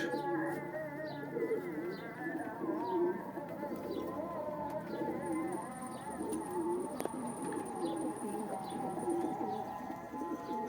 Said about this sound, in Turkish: Evet arkadaşlar kuşlar yavruları bunlar.